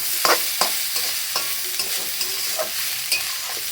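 Rice frying briefly in a pan for dal khichuri, with sharp scraping stirs of a spoon at an irregular pace over a steady soft sizzle, close and alone with no voices.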